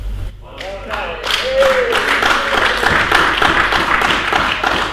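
Applause breaks out in a council chamber during a climate change debate, a mix of scattered hand claps and crowd noise that swells and holds steady under a voice speaking.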